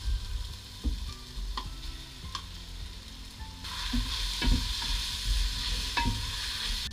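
Onion and shrimp fry in a pan for bihon guisado, a steady close sizzle with occasional utensil taps and stirring knocks, no voices.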